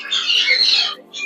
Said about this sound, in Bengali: এই দেখেন গাইস কাকাতুয়া পাখি